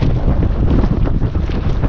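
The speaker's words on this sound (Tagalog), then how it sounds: "mahangin pala dito" Strong wind buffets the microphone at a waterfront in Baseco, Manila, a loud, continuous low roar and rumble with no voices over it.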